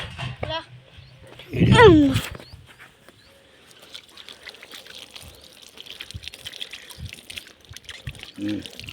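A brief splashing pour of water near the start, followed by quieter background murmur and scattered faint sounds.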